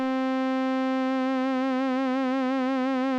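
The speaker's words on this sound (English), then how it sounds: "by default, we have a very simple sine wave, triangle wave" Arturia PolyBrute synthesizer on its init patch sustains a plain sine-to-triangle tone at one steady pitch, loud and alone, gaining a slight wavering shimmer after the first second.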